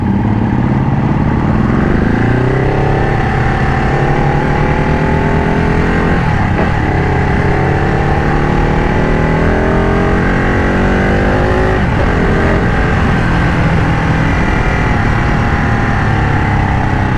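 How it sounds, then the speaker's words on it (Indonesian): A loud modified Ducati Panigale 1199 Tricolore L-twin engine revs repeatedly, its throaty exhaust pitch climbing and falling in sweeps over a continuous rumble. "suara knalpotnya gua demen bro"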